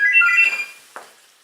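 A telephone rings indoors with one loud electronic trill that fades away, followed by a short faint click, and no voices.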